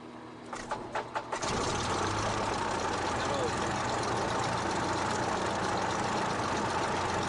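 A small propeller airplane engine coughs through a few sputtering turns, then catches and settles into a loud, steady idle, with voices talking briefly over it.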